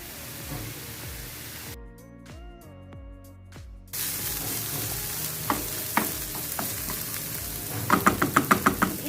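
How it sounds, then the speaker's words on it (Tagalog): Onion and garlic sauté in cooking oil, giving a steady close sizzle and hiss throughout, with a brief quieter gap, then louder frying and a quick series of tapping utensil knocks toward the end. "Add cooking oil. Saute na natin si onion."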